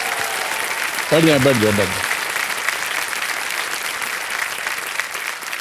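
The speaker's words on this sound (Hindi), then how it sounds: "एक बार जोरदार तालियां हो जाए हमारे कंटेस्टेंट्स के लिए।" A studio audience on the game show Kaun Banega Crorepati applauds steadily and loudly throughout, with a brief spoken phrase from a man near the start.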